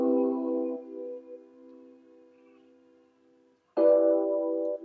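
Sustained synth chords from a quantized MIDI pattern in FL Studio play in a simple pattern, each held and then cut off abruptly, with a short silence before the next chord starts.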